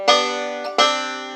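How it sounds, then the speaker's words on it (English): Two pinched banjo notes on the open third and second strings, played as the opening of When the Saints Go Marching In; each pluck rings bright and close with a slow decay, the second following after a short gap, with no talking. "I'm going to pinch those two strings, same strings."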